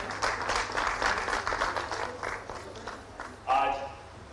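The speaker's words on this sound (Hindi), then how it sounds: "जोरदार तालियों के साथ स्वागत करें।" An audience at a Jharkhand government appointment ceremony applauds to welcome the minister, steady clapping from a crowd that fades out, followed by a voice speaking.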